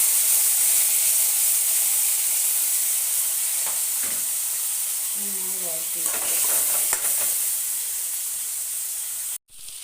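Chopped garlic, shallots, ginger and green chili frying in a pan, a loud continuous hissing sizzle with brief stirring clatter partway through before cutting off abruptly near the end.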